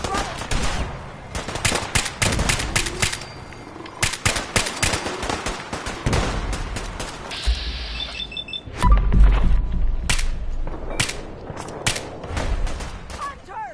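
Rapid gunfire in Fallout 4 during a fog-shrouded fight, bursts of shots spread across the whole stretch, loud and close with echoing reports and a heavy rumbling impact partway through.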